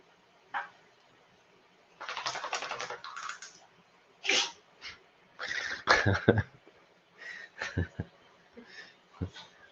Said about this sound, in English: So why are you sneezing so much?